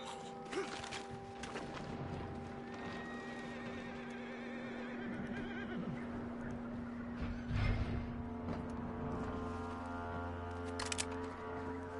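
A horse in the game Red Dead Redemption whinnies loudly at close range amid hoof clip-clops, steady ambient hum and brief in-game voices.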